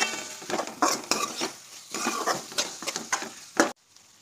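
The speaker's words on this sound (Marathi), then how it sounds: "तर बारीक गॅस करून आपण हे छान परतून घ्यायचं आहे 2-3 मिनिटांसाठी" Pav bhaji vegetables being sautéed and stirred in a pan over a low flame, with repeated scraping and clattering of a spoon against the pan and a light sizzle underneath, close and fairly loud, ending abruptly.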